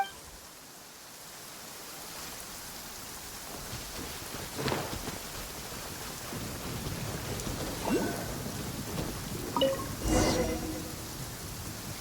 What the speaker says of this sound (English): it's just thunder and lightning